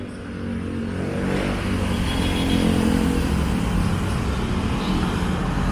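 Road traffic in the Philippines, with cars and motorcycles passing, makes a continuous broadband roar that swells slightly and holds steady throughout.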